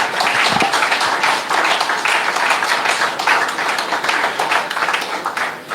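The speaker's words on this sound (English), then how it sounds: "let's give Brother Jamin a standing round of applause" A reunion crowd at a school class night gives a standing round of applause, dense continuous clapping filling the room for several seconds with a few voices mixed in.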